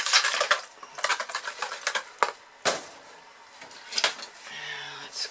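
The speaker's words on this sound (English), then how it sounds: "Now, I'm going to mix up this white, which is setting up, loosening it up." Goat milk soap batter is mixed in a bowl, with irregular clinking and scraping strokes of a utensil against the bowl, moderately close, with short pauses between bursts.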